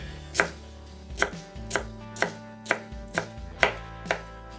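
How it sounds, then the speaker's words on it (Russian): Eight crisp knife chops through Korean-style carrots on a cutting board at a steady rhythm, close and clear, with no talking. "Нарезаем ее на более мелкие кусочки."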